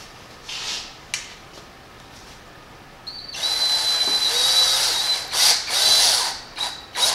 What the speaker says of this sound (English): Would you mind picking a spot there on the end and drilling all the way through?